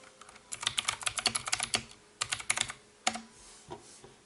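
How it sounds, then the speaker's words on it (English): Rapid bursts of clicky keystrokes on a mechanical keyboard with blue switches, typed close up in quick runs separated by short pauses, with no voices. "I prefer using the blue switch to type"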